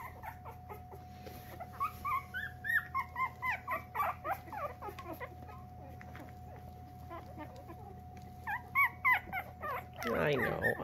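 Young puppies cry and whimper in a steady series of high, close yelps and squeals, with a faint steady hum underneath and a louder rustle at the end.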